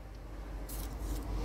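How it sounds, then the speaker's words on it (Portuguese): A 4-pole electric motor rated at 14.1 amps runs with a steady low hum and broadband whir that grows a little brighter and louder about halfway through. "Vou ligar de novo para vocês verem o torque que ele vai dar na partida."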